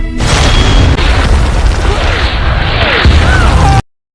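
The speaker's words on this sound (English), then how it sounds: "An explosion occurred in the enemy's area." A war-movie explosion in the enemy's area of the battlefield: a loud, deep booming rumble that rolls on steadily for nearly four seconds before cutting off abruptly.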